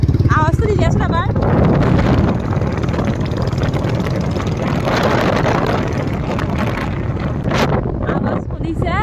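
A Royal Enfield Bullet motorcycle engine running with no silencer, a loud, steady rumble dense with low-frequency pulses that fills the whole stretch, with wind buffeting and a voice speaking briefly at the start and end.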